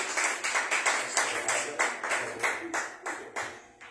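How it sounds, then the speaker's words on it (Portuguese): A church congregation at a Portuguese-language worship service claps for Jesus in a loud, rhythmic beat of evenly spaced group claps that continue steadily from start to finish. "Hoje vocês têm o privilégio de uma salva de palmas para Jesus."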